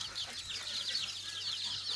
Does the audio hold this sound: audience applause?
no